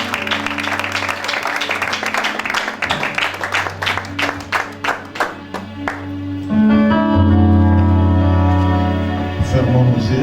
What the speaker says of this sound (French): on acclame très fort pour les Seigneurs